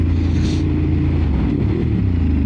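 Ducati Monster 950 Plus exhaust as the throttle is twisted, a loud continuous low rumble with slight rises and swells in pitch, heard up close and alone.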